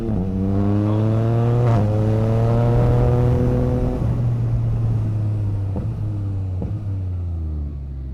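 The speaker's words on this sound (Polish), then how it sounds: "Samochód jedzie." An engine drones steadily and loudly close by with rising and falling harmonic tones, like a car passing at speed on a high Alpine mountain road, with no talk over it.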